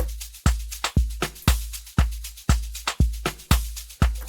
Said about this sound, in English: So I have another clap going down like that.